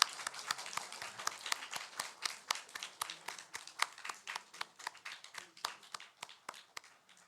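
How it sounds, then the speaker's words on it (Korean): A church congregation at a Sunday worship service claps in rapid, fairly rhythmic applause, sharp individual claps close and distinct, continuing steadily throughout. "우리 마지막입니다. 우리 다시 뜨겁게 우리 박수."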